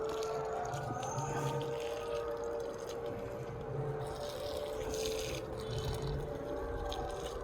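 Small cactus pots being watered thoroughly, a continuous close stream of water splashing into soil, steady throughout with a faint hum underneath and no talking.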